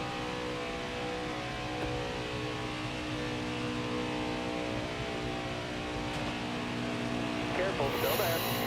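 Race car engines hum steadily in a stock car racing video game, a continuous drone of several cars running under caution, moderately loud with little variation.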